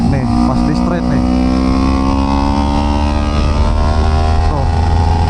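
A Kawasaki Ninja 250 engine revs hard at about 8,000 RPM down a karting-track straight, its loud, steady tone stuttering and hunting with a rough, two-stroke-like edge, close and continuous throughout.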